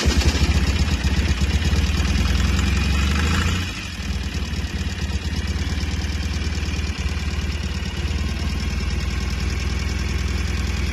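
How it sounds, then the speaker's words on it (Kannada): A vehicle engine idles with a steady low rumble and knocking pulse, the pitch and loudness dropping slightly partway through before settling into an even idle, with no talking. "ಗಾಡಿ ಸ್ಟಾರ್ಟ್ ಆಗಿದೆ"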